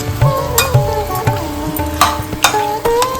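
A spoon mixes roasted ground masala and yogurt into mutton for biryani in a metal pot, with repeated close clinks and scrapes against the vessel and no talking.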